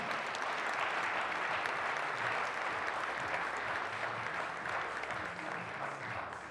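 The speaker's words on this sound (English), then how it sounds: "Give a round of applause for Iceland's Ásgeir Sigurd Geirsson" Spectators at the 2017 European Championship men's 10m air pistol in Maribor, Slovenia, applaud Iceland's shooter Ásgeir Sigurd Geirsson with steady, even clapping that sounds distant and fairly faint, with no talk over it.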